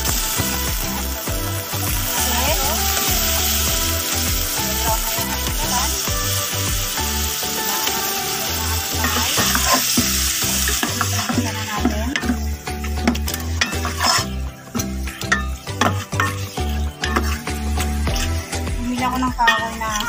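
Chicken being stirred in a pot with a wooden ladle for tinola with sayote and malunggay, a steady scraping, rubbing stir over a constant simmering sizzle, close and continuous with busier strokes in the second half.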